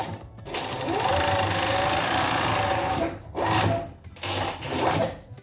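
A sewing machine stitches a fabric edge in a steady whirring run, then stops and restarts in two short bursts, close and clear with no talk.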